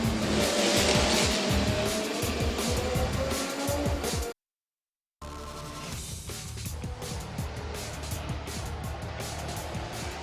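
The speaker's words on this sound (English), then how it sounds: "we'll get the engines revving" Race car engines roar and whine at high revs with tire squeal and skidding, loud and continuous, cut by a brief silent gap before the engine noise resumes.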